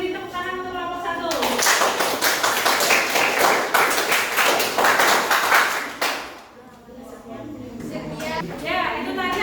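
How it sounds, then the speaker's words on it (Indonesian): Students applaud group 1 in a mathematics classroom, a dense burst of clapping lasting several seconds before stopping abruptly, with voices heard around it. "Kita beri tepuk tangan untuk kelompok 1."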